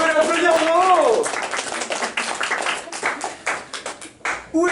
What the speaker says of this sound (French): On peut l'applaudir en haut.